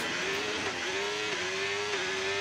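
In a racing video game, a race car on soft tyres during a qualifying lap holds a steady high engine whine, its pitch dipping briefly at gear changes, under a constant wash of track noise.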